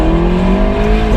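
A McLaren 650S engine revs loud and close while driving on twisty roads, a steady sustained tone holding throughout with no talk over it.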